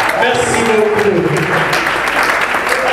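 An audience applauds at a talk on Patrice Lumumba, with dense, loud, steady clapping throughout and a voice briefly heard under it.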